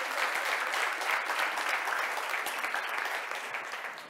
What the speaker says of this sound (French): On les applaudit encore une fois, les 3 projets.